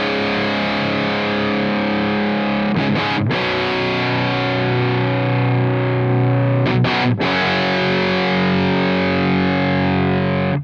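Heavily distorted electric guitar through a Mesa Boogie Triple Rectifier amp simulation in AmpliTube 5, holding loud sustained saturated chords with two brief choked gaps, played alone with no talking.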